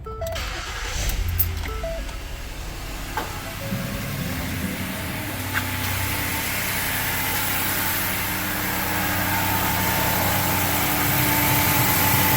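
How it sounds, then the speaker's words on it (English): A 2013 Ford Edge engine runs at a steady idle after a brief start, a close continuous hum with a few small clicks near the beginning. "We got oil, car's running."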